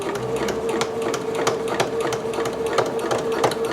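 Sewing machine back stitching along a basting line on a dress, a close, steady mechanical whir with rapid ticking needle strikes running throughout.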